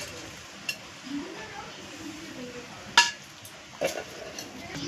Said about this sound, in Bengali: এবার আমি ভেজে রাখা চিকেনগুলো গ্রেভিটার মধ্যে দিয়ে দেব।